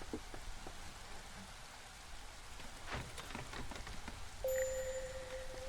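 Soft drizzle rain falls in the Against the Storm video game as a faint, steady patter with a few scattered drop taps and a brief tonal chime near the end, with no voices.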